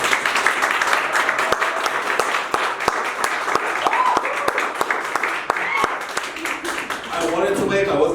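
Audience applause at a feature film premiere screening, dense crowd clapping with sharp individual claps close by, and a voice speaking briefly over it near the end.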